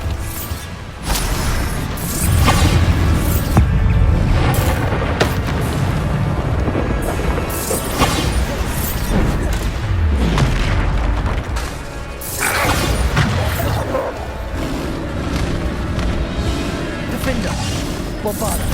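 Bombarda spell blasts in Hogwarts Legacy, repeated crashing explosions and rumbling debris amid loud continuous game battle sounds, with speech heard over the action.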